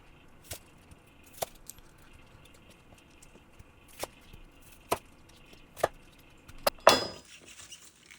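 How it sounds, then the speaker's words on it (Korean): A knife chops through bok choy on a cutting board in a quiet kitchen, about eight sharp separate thuds spaced roughly a second apart, ending with a short rustle. "열심히 썰어서 데칠 준비를 합니다."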